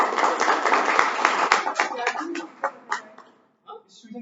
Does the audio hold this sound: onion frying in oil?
no